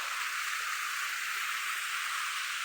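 Water falling at a hidden waterfall in Agno, Pangasinan, a steady hissing rush of moderate flow that stays constant throughout, with no voices.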